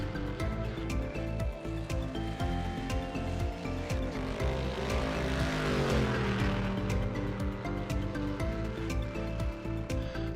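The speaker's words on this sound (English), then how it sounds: "all you're going to hear is the bellows of these engines" Race car engines in the iRacing video game on the Texas Motor Speedway oval drone continuously, a layered roar of several cars that swells as a pack passes near the middle and stays steady throughout, with no voices.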